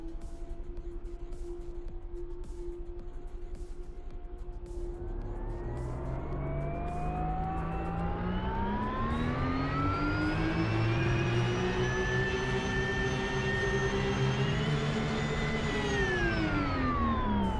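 A race car engine wails and climbs in pitch as the car slides sideways off the track, loud and sustained with harsh revving that rises then drops near the end.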